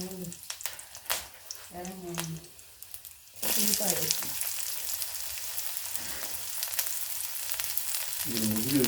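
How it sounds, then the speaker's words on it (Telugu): Curry leaves dropped into a pan of okra curry give a sudden loud sizzle that holds steady while being stirred, after a quieter stretch with a person talking. "కొంచెం కరివేపాకు వేస్తాను కలపాలి"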